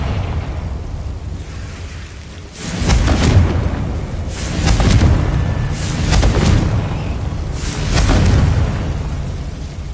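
Confringo spell blasts in Hogwarts Legacy boom four times at a steady interval, each a loud, heavy explosion with a rumbling tail, with no talking.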